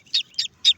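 Newly hatched chicks, some still emerging from their eggs, give three sharp, high-pitched peeps in quick succession. They are close and clear, with near silence between the calls and no other sound.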